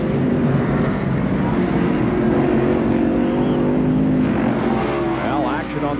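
NASCAR stock cars at the 1991 Banquet Frozen Foods 300 on the Sonoma road course roar steadily in close racing, a continuous loud engine drone with shifting pitch, under a commentator's voice.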